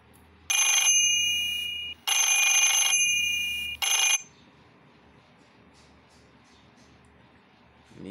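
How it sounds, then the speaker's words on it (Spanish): A telephone rings in three bright electronic bursts, two long and one short, fairly close, before giving way to quiet background noise. "Ni el sonido del teléfono le hace."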